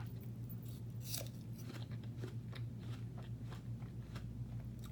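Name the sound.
biting and chewing a Red Delicious apple with sugar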